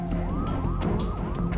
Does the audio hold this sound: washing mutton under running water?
no